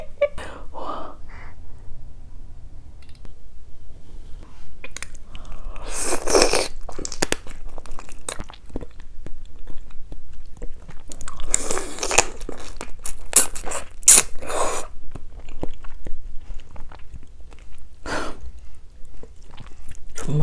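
Soy sauce marinated crab full of roe being bitten and chewed up close, with wet crunching and tearing bursts in clusters between quieter pauses, alone with no talk.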